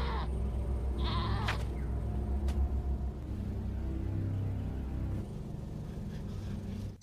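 Goats bleating over a constant low engine-like rumble, with a few short high cries early on and a steady drone throughout.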